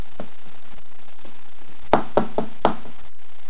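Knocking on a door in a cartoon scene: a few soft taps, then four sharp, loud knocks in quick, even succession.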